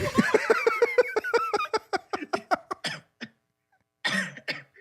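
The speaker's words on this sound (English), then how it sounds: "my smoker's cough is coming out" A smoker's rapid, rhythmic string of raspy coughs blends into wheezing laughter, trailing off, then one more rough cough burst after a brief pause.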